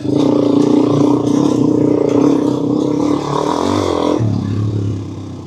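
Motorcycle fitted with Dunlop D606 tires pulling away from a standstill, a steady loud engine drone rising slightly as it gains momentum, then dropping in pitch near the end as the ride settles.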